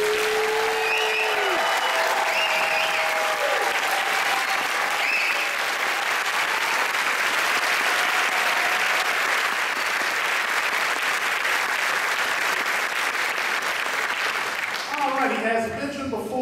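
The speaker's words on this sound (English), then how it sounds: "rousing applause for the folks that did the real work this weekend" Sustained, rousing applause from a concert audience at a regional wind ensemble band concert, steady dense clapping for a long stretch that thins out near the end, with faint voices at the start.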